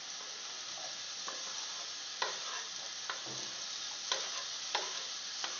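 Chopped garlic, peppers and onion sauté in a single pan alongside sausage and shaved beef, a constant bright sizzle broken by occasional scrapes and taps of a utensil.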